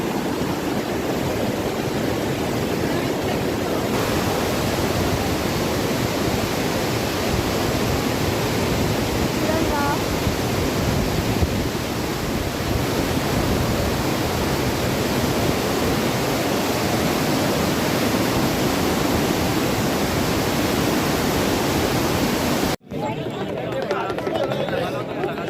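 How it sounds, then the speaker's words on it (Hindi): Cold mountain river water rushes loudly and steadily along the Kedarnath trek, a broadband roar close by that runs almost unbroken before cutting off near the end; a voice can be heard faintly at times under the water. "बता नहीं सकती आवाज़ पानी की"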